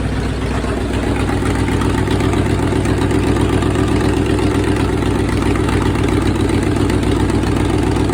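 A 1964 Chevy small-block 283 V8 idles steadily after being revved, a loud, close, continuous low rumble with no talk over it.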